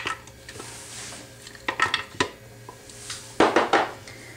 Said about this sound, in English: we're going to just put all the ingredients in the blender.